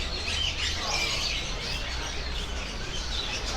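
Caged birds at the Hong Kong bird market give a dense, continuous wash of chirps and tweets, steady and fairly close, with no speech.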